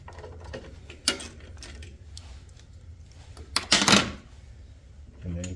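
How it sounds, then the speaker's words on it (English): Deep 5/16 socket wrench loosening long screws on a Briggs & Stratton carburetor, with sparse ratcheting clicks and metallic handling noises up close, and a voice speaking intermittently. "we're going to take these long screws out. It will be a 5/16 socket, a deep socket."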